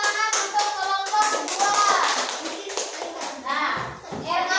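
A school class claps for a student group, a light patter of children's hands mixed with high-pitched kids' voices talking and calling out over it.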